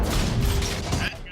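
A tank cannon fires in World of Tanks, one short heavy boom with a rumbling tail, fairly loud and close, with a voice talking over it.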